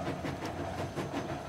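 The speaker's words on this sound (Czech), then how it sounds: "to je ten pěkný vlak" A cartoon train rumbles steadily, with a low continuous rolling noise and faint rhythmic rattling, fairly quiet and without voices.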